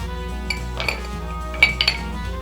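Two ice cubes dropping into a glass of rum for an old fashioned, a few bright clinks near the end over a low steady hum, with no talking.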